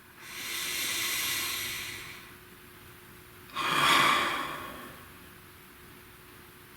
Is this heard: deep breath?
yes